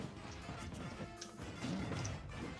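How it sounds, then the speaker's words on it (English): Heavy smashing thuds and crashes as Donkey Kong rolls and down-smashes in a fighting video game, several impacts in quick succession amid busy game sound. "He's just rolling and down smashing."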